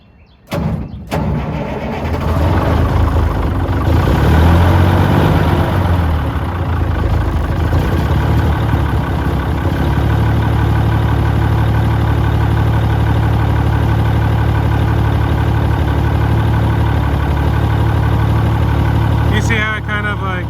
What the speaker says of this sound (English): So yeah, let's start her up.